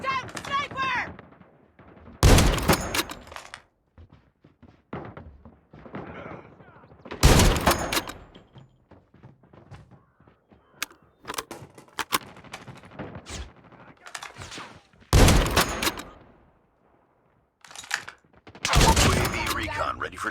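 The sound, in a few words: sniper rifle gunfire in a video game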